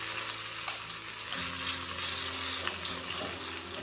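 A ladle of batter with green coriander is spread over a hot oiled pan, giving a quiet, even sizzle that hisses steadily for a few seconds without talk.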